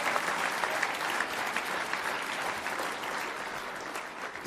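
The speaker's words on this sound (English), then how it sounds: "Let's give them another round of applause." A crowd at a political gathering for a BC caucus team gives sustained applause, many hands clapping in an even, continuous roar that stays fairly distant and steady with no break.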